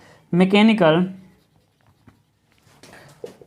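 Writing strokes on a board during a civil engineering lecture on steel structure properties: after a brief spoken phrase, faint scratchy marks follow in a short, quiet burst near the end.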